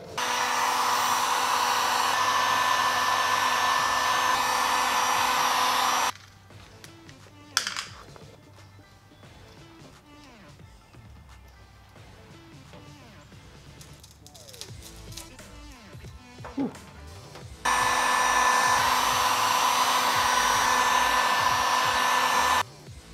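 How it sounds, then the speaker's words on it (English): A heat gun blows steady, loud broadband air while warming a car badge's adhesive, running for several seconds, cutting out to quieter handling sounds, then switching back on at full strength. "the biggest tip is basically using a heat gun"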